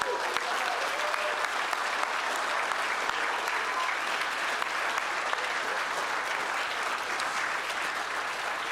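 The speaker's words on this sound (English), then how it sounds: "A round of applause for Scannable." An audience at an innovation awards ceremony claps for the winning team, a sustained, dense wash of applause that stays loud and even throughout with no voices on top.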